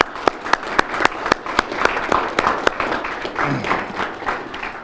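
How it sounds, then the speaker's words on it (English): A small crowd at a tornado response fund press conference applauds, starting with a few distinct, evenly spaced claps that blend into scattered, moderate clapping before tapering off. "they also deserve a round of applause, and I'd like to do that for them right now."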